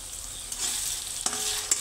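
Dal fry masala roasting in a hot pan, a steady close sizzle with a few scraping stirs of a spoon cutting through, no voices.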